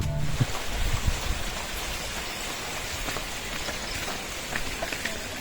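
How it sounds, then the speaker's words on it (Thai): Heavy rain pours steadily and evenly, a dense continuous hiss of drops on surfaces with no voices. "ฝนตกหนักมากนะฮะ"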